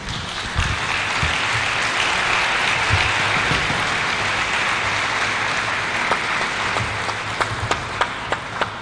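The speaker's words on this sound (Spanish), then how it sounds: "Démosle un aplauso, por favor." A conference audience claps in steady, dense applause during a presentation of an award to a visiting speaker, sustained for about nine seconds with a few sharper individual claps standing out near the end.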